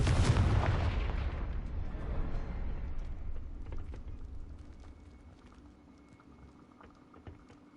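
A Confringo blasting spell explodes in Hogwarts Legacy, a loud, booming burst at the very start that rumbles and crackles as it slowly fades over several seconds.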